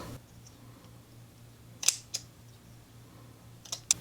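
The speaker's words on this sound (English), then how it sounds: "you can use a small scissor to cut. I will just cut a little bit at a time" Small scissors snipping a slit in jersey T-shirt fabric, with a few sharp, crisp cuts spaced apart, a close pair around the middle and another pair near the end, over a quiet background hum.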